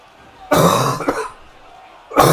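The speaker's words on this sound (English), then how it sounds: "I don't know why I have such a nasty cough right now." A person in a roleplaying game session coughs harshly twice in quick succession, followed by a pause and another cough starting near the end; close and loud, with no other voices.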